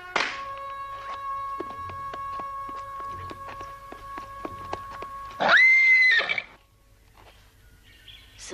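A horse gives a loud, close neigh, a drawn-out shaky whinny with a rising squeal toward the end, set against a background of ringing music.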